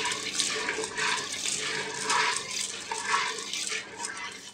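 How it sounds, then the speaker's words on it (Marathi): Wheat grains rubbed and washed by hand in a vessel of water, a close, steady swish and slosh that rises in repeated surges, with no voices. "चांगले चोळून धुवायचं।"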